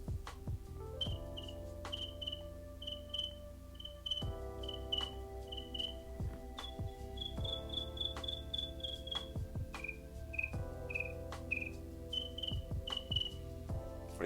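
A man imitates a cricket with his voice, making repeated short, high chirps in steady bursts over a low background hum, close to the microphone.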